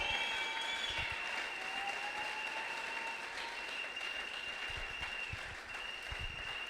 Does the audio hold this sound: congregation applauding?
yes